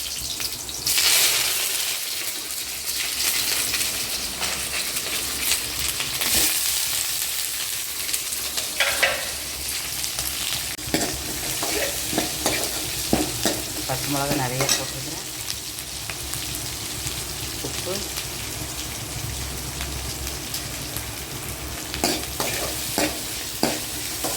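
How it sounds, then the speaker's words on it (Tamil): Steady sizzling of curd being tempered in a frying pan with intermittent stirring and scraping, fairly close, continuous throughout with small clinks and bursts of crackle. "தயிர் மீதி ஆகிடுச்சுன்னு தயிர் தாளிக்கிறேன்"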